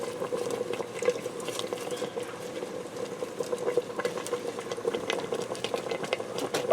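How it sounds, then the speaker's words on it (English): Onion soup mix and beefy powder being stirred into liquid inside a 6-quart Elechomes electric pressure cooker, a steady soft churning and bubbling texture that runs without a break and without talk. "I'm going to give this a quick stir to distribute everything."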